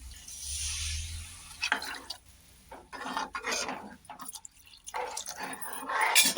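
Water splashes into a cooking pot of spiced rice in uneven bursts, with small clinks and stirring noises between pours.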